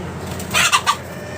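A few short, sharp clucks from a chicken, close by, over a quiet background with no talking.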